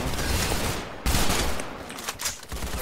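Rapid gunfire bursts in the Roblox shooter game Arsenal, a dense, loud fusillade of machine-gun-like shots filling the clip with brief gaps between volleys.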